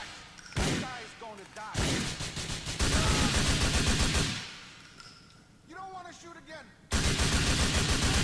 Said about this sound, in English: Blind fire!